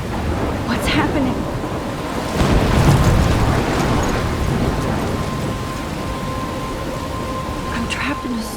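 A storm in Life Is Strange, with constant heavy rain hiss and a deep rolling rumble of thunder swelling in the middle, loud and enveloping.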